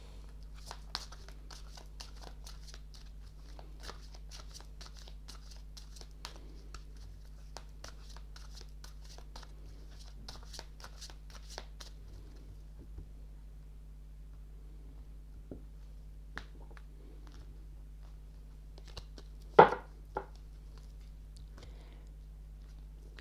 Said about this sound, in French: je vais commencer par vous tirer 2 cartes de l'oracle du chakra du cœur